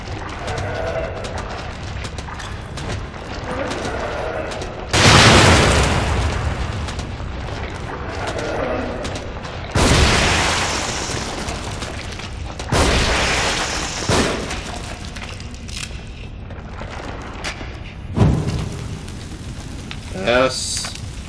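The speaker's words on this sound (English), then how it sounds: "Grenade." Grenade blasts in The Evil Within, several loud booming explosions bursting out over a dense, rumbling game soundscape with fire-like crackle between them.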